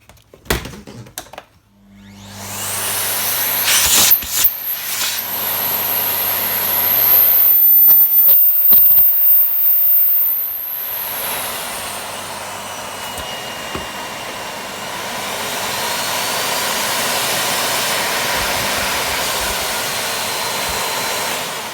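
A battered Miele S5260 vacuum cleaner starts up and runs with a loud, steady whine and rushing airflow, surging briefly before settling into a continuous drone, heard alone without talk.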